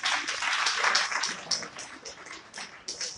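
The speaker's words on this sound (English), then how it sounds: "Let's have another round of applause for our panelists." Audience applause for panelists at a public conversation event, a dense, steady wash of many hands clapping at moderate distance, swelling and easing slightly across the few seconds.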